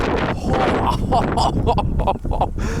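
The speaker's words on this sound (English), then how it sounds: "That was a massive gust." Strong wind gust buffeting the microphone outdoors beside a white Ford Bronco Sport, a loud broadband roar that swells and dips for about three seconds and masks everything else.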